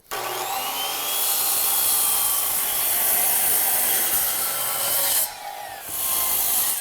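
Power saw cutting a wooden rafter from a template during a tree-top deck renovation, a loud steady whine held for several seconds with a brief dip near the end.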